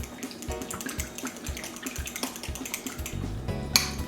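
Melted butter being stirred into banana bread batter, a spoon knocking and scraping against a bowl in a steady rhythm with faint wet mixing sounds, close and fairly quiet.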